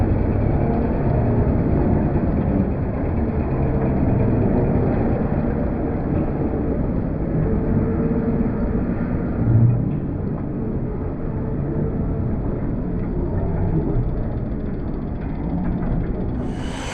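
Motorized stand-up cart with a large steering wheel hauling fish through a Tokyo market, a steady low engine rumble with a brief knock partway through, moving along amid busy market ambience.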